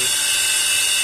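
A Tullu water pump motor runs on the bench after being freed from a jam, giving a steady, loud high-pitched electric whine with no break across the short stretch.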